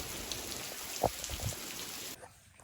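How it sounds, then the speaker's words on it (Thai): Rain falls outdoors at a fishing spot, a steady close hiss with scattered drop patters, easing off sharply near the end. "ฝนตก"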